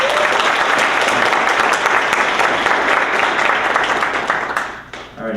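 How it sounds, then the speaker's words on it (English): A crowd applauds loudly, a dense wash of clapping that holds steady for several seconds before tapering off near the end. "Everyone, give them a round of applause."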